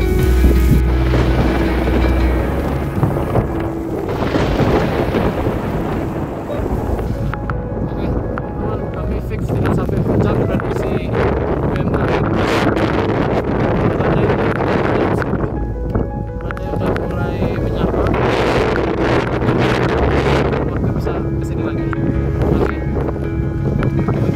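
Strong storm wind sweeps across a mountain near a trail post, roaring and buffeting the microphone in loud, surging gusts that swell and ease over a long stretch.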